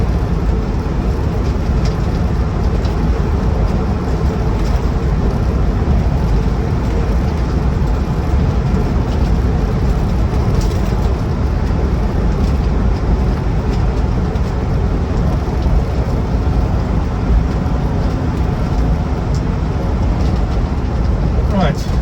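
A Land Rover Defender 90 TD5 soft top drives along with its diesel engine running, giving a steady, loud, broadband rumble with wind and road noise throughout.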